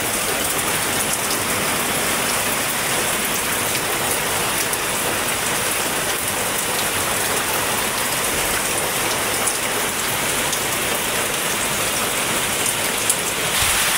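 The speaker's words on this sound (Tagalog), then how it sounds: "Sobrang lakas pa rin ng ulan saka ng hangin." Heavy rain from Super Typhoon Pepito in Bicol, Philippines pours in a dense, unbroken roar, with gusting wind mixed in throughout, loud and close.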